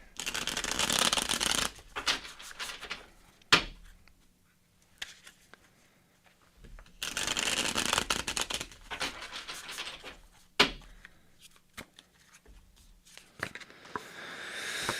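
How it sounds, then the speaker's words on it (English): Tarot cards shuffled by hand in long, dense riffling bursts, with a sharp card snap between them and quieter pauses, close to the listener with no talking. "I'll pull a couple tarot cards"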